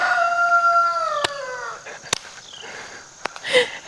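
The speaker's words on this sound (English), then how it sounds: "he's up there just, you know, making all of his noise" A rooster perched atop a chicken coop gives a drawn-out crow that fades after about a second and a half, followed by a few sharp clicks and faint rustling nearby.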